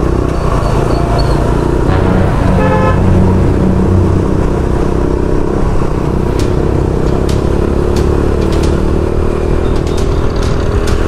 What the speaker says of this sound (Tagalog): Masyado tahimik din tong exhaust eh.